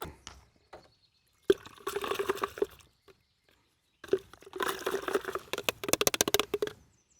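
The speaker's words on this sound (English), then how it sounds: "we're also going to do a quick scrub of the inside as well" Water sloshes and splashes while the inside of a sprayer tank is scrubbed and rinsed, coming in two bursts of wet, dripping rubbing separated by a quiet gap, close and moderately loud.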